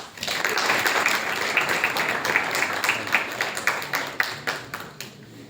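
An audience gives a round of applause welcoming a professor at an English language skills workshop, a steady spatter of many hands clapping that gradually thins toward the end.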